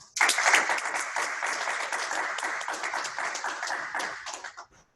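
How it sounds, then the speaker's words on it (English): Applause from a meeting audience in honor of speakers from a Central Park Arboretum garden, a steady crowd of clapping hands lasting about five seconds before tapering off at the end. "let's give them a round of applause here"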